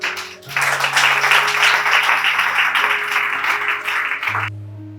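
A church congregation applauds the Lord, the clapping rising suddenly into a dense, steady crowd ovation that holds for several seconds before cutting off.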